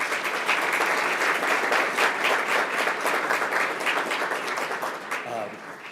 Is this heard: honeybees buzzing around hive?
no